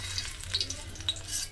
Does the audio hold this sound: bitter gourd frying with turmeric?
yes